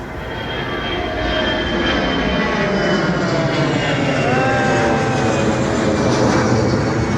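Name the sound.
red and white airplane flying overhead near Heathrow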